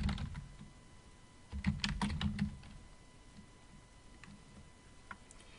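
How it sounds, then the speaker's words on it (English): Keys tapping on a computer keyboard, a quick burst of typing in the first half that thins to a few scattered taps, close and fairly quiet. "So I'm just going to type in my first part of text."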